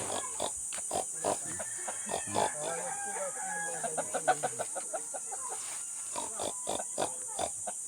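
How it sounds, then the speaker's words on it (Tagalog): Repeated short grunts from a large pig amid clucking chickens, recorded outdoors against a steady high insect drone, with scattered sharp clicks. "Baboy oh, malaking baboy."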